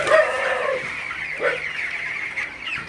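Chickens on a poultry farm during hot weather cluck and chatter softly at close range, several birds calling over a quiet background with a few sharper squawks.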